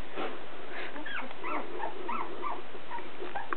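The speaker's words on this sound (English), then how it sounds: "And here's the puppies." Portuguese Water Dog puppies whimper and squeak close by, a string of thin high whines and yips rising and falling over a few seconds, with no talk.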